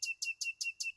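Songbirds at a Surinamese songbird contest held early on a Sunday morning, singing a quick run of five bright, evenly spaced chirps, clear and fairly close against a silent background.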